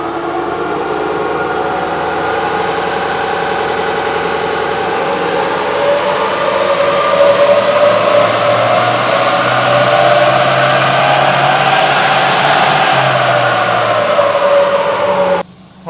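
A Gen 3 Toyota Hilux with the N80 engine, warmed up and loaded on a dyno, drones loudly and steadily as it climbs through the revs in one long sustained pull, rising in pitch before cutting off abruptly at the end.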